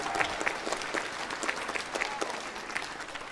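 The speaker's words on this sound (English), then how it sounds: "So a round of applause for them," An audience applauds at a school holiday concert. Steady, moderately loud clapping from a crowd fills the room, with a few louder individual claps standing out.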